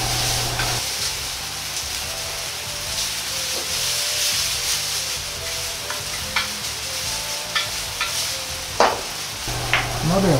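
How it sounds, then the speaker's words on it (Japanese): Noodles for a spicy minced meat and cabbage yakisoba, spread out in an oiled pan, sizzle steadily up close, broken by brief clatters and scrapes of chopsticks against the pan. "麺を引き広げ、片面を焼いていきます"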